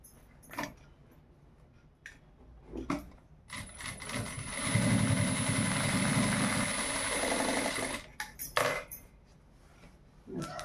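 A domestic sewing machine runs in a steady whirring burst for a few seconds while stitching a loose hip seam on a pair of jeans, with short clicks and handling knocks before and after.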